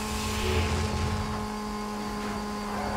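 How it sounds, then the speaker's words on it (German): A helicopter in the Midnight Club L.A. video game, heard as a steady mechanical drone with a low rumble and a sustained tonal whine, moderately loud and continuous over the short span, with no talking. "Der Hubschrauber da drüben, ey."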